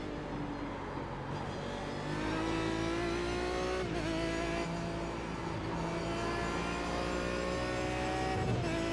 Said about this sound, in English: Ah, hit the rev limiter there.